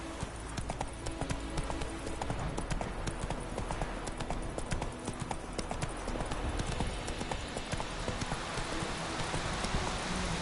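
Horse hooves clip-clop steadily for Roach in The Witcher 3 video game, a continuous brisk trotting rhythm heard close under ambient game sound.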